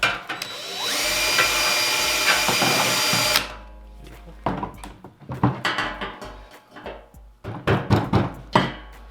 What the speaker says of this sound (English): A hammer right there.